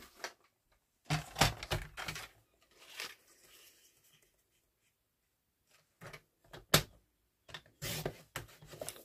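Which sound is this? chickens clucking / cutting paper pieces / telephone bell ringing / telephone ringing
cutting paper pieces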